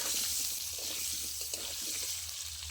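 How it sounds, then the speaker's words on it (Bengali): Potatoes fry in mustard oil in a wok with a steady, dense sizzle, and soft stirring scrapes rise now and then over the crackle. "কড়াইতে আবারও সরষের তেল, আলুগুলো তেলের মধ্যে ভেজে নেব।"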